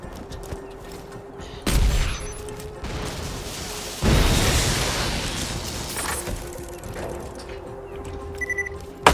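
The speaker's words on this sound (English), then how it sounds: "Exploding acid and fire." Acid and fire explode in Borderlands 2: a sharp blast, then a second, bigger burst that roars and slowly dies away, with small pops and crackles between them and a final hit at the end.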